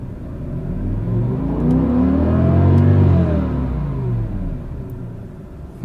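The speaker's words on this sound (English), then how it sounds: "I can rev it up here for you just to hear that V10 a little bit" A 2006 BMW M5 V10 engine revs up from idle, climbing smoothly to a loud peak around the middle before easing back down, a deep close rumble with no talk.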